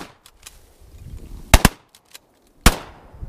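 Several sharp shotgun blasts from a duck hunting party in Colorado, two close together then a third a second later, loud and near against a quiet marsh background.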